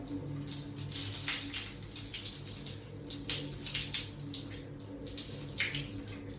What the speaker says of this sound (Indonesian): Lalu ketika sudah selesai, kita bilas dengan teknik satu arah.